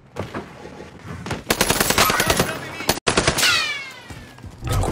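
Automatic gunfire in the video game Call of Duty Warzone, loud rapid bursts after a quieter opening, close and continuous with a brief break, with a voice talking faintly around it.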